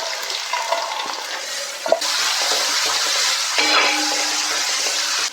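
Two sliced onions frying in hot oil in an uruli pan, a steady sizzle that jumps louder as the onions go in, with a few clinks and stirring scrapes.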